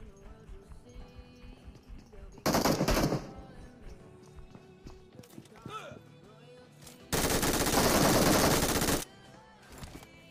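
Gunfire in PUBG Mobile comes as two loud sustained bursts of rapid shots, one short and one longer, standing out over quieter game background sounds and occasional footsteps.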